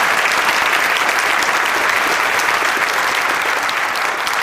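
An audience at the PyCon 2011 Python conference bursts into loud, dense applause after a talk, a continuous roar of many hands clapping close and evenly with no voices above it.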